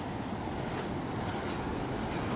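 Sea waves wash along a beach shoreline at San Fabian, Pangasinan, giving a continuous close wash of surf with some wind buffeting, with no talking.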